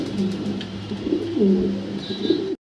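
Pigeons offered for sale coo in deep, rolling, throaty notes. The sound is close and loud, rising and falling in a few short phrases before it stops abruptly.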